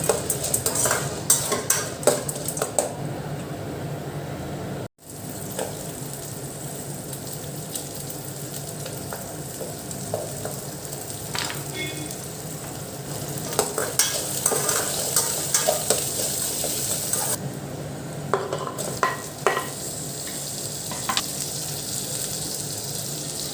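Food sautés in a hot pan while a utensil stirs it, giving a continuous sizzle broken by scraping and clinks of metal on the pan. There is a brief dropout partway through.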